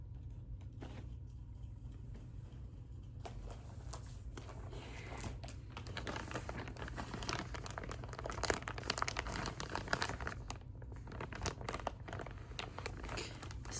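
A plastic bag that a bathing suit was shipped in crinkles and crunches close up, with irregular bursts of rustling that thicken toward the middle and carry on over a low steady hum, with no talking.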